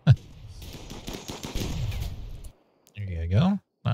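Gunfire in the video game RimWorld: a rapid rattle of small shots through the first half, then brief bursts, with someone talking over and after it.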